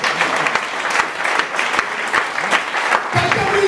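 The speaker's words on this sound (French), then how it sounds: "Lui donne une acclamation." Church congregation applauding during a live sermon, dense steady clapping with sharp louder claps, close and continuous throughout.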